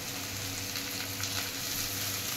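French beans fry with browned onion in a pan, giving a steady, dense sizzle that holds even and close for a couple of seconds with no voices.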